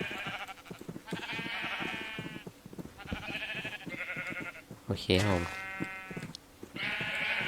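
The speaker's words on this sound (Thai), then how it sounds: "เราจะเอาแกะ ออกมาแล้ว แล้วเราก็จะรีบปิดนะครับ" Sheep bleat repeatedly on a small farm as the flock is let out a few at a time, loud overlapping calls close by with someone talking over them.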